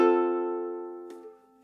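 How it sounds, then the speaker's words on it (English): A ukulele strums all four open strings at once; a single chord rings and slowly fades, followed by a faint soft touch on the strings near the end. "Then try just strumming all four strings at once"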